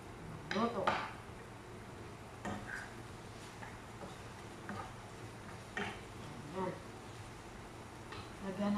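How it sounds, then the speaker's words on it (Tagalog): A spoon scrapes and clinks in a pan while tomato and onion are stirred together for breakfast, giving soft, sporadic metallic taps spread across a quiet kitchen with some faint talk. "Tayo ay maghalo-halo ng kamatis at saka sibuyas"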